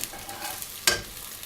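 An egg omelette sizzles softly in a frying pan, with a steady low hiss and one brief louder crackle as it is moved or flipped.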